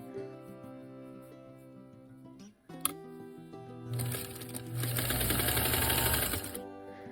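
Domestic sewing machine stitching a quilt, a soft steady hum that swells into a louder, faster run of needle chatter for about two and a half seconds before stopping, with faint handling clicks beforehand.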